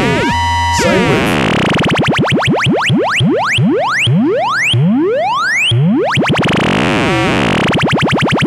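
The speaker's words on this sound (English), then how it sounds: "cross-modulating sine wave." Loud synthesizer tone, a cross-modulated sine wave on a MacBeth Elements, sweeping upward in repeated glides, dense with shifting metallic overtones, ending in warbling modulated wobbles.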